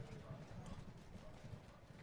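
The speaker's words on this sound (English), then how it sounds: "The merchant wagon barrels through the driver using horse whips to lash stragglers out of the way." Hooves of a horse-drawn merchant wagon clop steadily in a video game, a soft, quiet, continuous patter of clip-clop beats with a faint rumble beneath.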